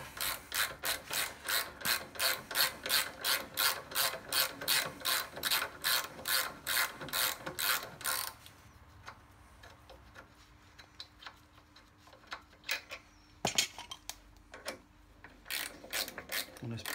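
A 12-point socket ratchet undoing a Brembo brake caliper on a Harley Davidson touring motorcycle: rapid rhythmic clicking strokes for about eight seconds, then sparse single clicks and handling noises, close and alone.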